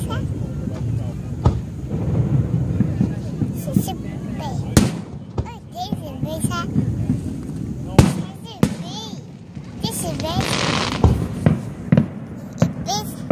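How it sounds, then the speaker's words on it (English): Fourth of July fireworks pop and crack in scattered bursts at a distance, with people chattering throughout. "That's a big firework."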